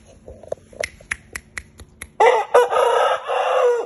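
A rooster crows loudly and close by after a series of sharp snapping clicks; the crow is long, harsh and rises then holds.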